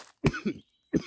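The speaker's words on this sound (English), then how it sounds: "don't know why I'm coughing, guys." A person gives two short, sharp coughs close up, about a second apart, with a brief throat-clearing rasp after the first.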